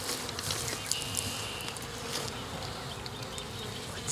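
Honey bees hum in an open hive during a frame inspection, a soft, steady buzz with faint individual bees passing close, no voices over it.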